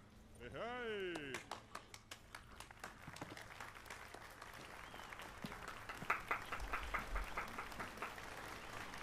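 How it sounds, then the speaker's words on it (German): Steady crowd applause in The Witcher 3 video game after a song performance, dense clapping lasting throughout and rising slightly near the end, with a brief sliding voice at the start. "Den Applaus hat sie sich verdient."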